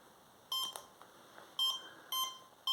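A converted Lidl RC glider's tri-motor setup, its motor speed controller beeping after battery connection: a run of bright electronic tone bursts, several short beeps in irregular groups, close up with no talk.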